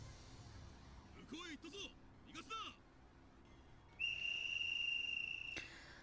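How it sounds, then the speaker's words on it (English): A distant, sustained high whistle of a yobiku in the video game Hakuoki: Edo Blossoms, holding a steady tone for over a second after some sparse chirping sounds. "I heard the distant howl of a yobiku."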